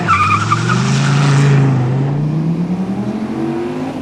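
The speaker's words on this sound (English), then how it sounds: "holding the RPM steady, dumping the clutch quickly, massaging the throttle without leaving time on the track, and then shifting right at redline." An SRT Viper GTS launching hard at redline, its engine roaring loudly up close as the tires squeal and skid, the pitch climbing steadily as it pulls away.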